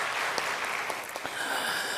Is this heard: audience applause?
yes